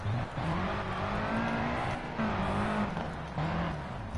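Rally car engine in the Sébastien Loeb Rally Evo video game, held at full throttle with rising and falling pitch as gears shift, loud and continuous across the whole stretch, with a bit of faint talk underneath.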